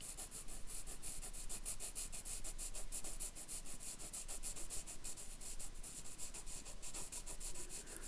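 A pencil shading a leaf drawing on paper, giving fast, rhythmic scratchy rubbing strokes that repeat steadily and close up, with no talking.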